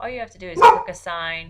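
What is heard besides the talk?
dog barking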